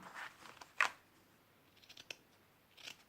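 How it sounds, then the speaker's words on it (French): Scissors cut roughly through lace for a fabric card, giving a few sharp, close snips spaced out across a quiet background. "Je vais déjà couper grosso modo."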